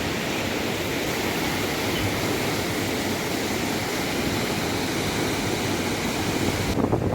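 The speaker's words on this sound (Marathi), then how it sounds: "हा पाण्याचा आवाज" A constant broad rush of flowing water at Machindragad Fort fills the air, steady and fairly loud, like a nearby stream or falls, with no talking.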